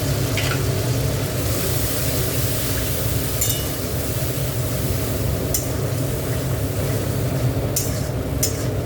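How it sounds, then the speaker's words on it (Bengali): Spice masala sizzling steadily in oil in a pan for a crab curry, a continuous moderate frying hiss with occasional brief louder spatters, no talk. "মশলাটা একটু কষাবো"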